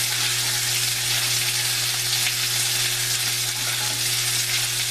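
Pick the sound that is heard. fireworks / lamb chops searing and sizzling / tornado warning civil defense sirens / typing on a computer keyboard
lamb chops searing and sizzling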